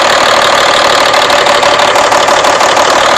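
A loud engine runs close up with an uneven, stumbling beat, misfiring with one cylinder cut out by a manual cutout switch, over a dense mechanical roar.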